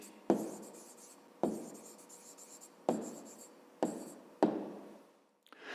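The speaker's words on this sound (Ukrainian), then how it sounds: "Пишемо відповідь." A pen writes an answer to a fifth-grade maths exercise by hand, heard as five sharp taps a second or so apart, each followed by a short scratching stroke, close and quiet with no talk.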